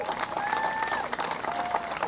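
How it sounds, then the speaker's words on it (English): A crowd at an outdoor charity walk for guide dogs applauds, scattered clapping and some cheering spread across the scene, with faint tones and background activity mixed in. "Let's give them a round of applause."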